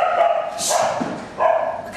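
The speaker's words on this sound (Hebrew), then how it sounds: "הכלבים נובחים." Several dogs bark near a gate at night, loud bursts of yips and barks in quick succession, filling the whole moment with no talk over them.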